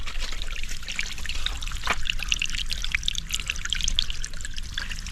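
Water trickles and gurgles steadily close by down a rocky channel, a continuous bright splashing flow over stones with no voices.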